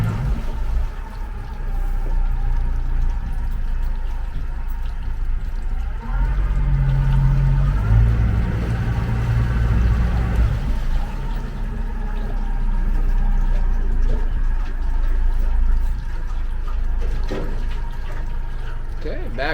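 An 18 ft 2005 Boulton boat with a Yamaha 90HP outboard sits tilted up in shallow water. A low engine rumble runs with water churning and splashing as it backs off a trailer.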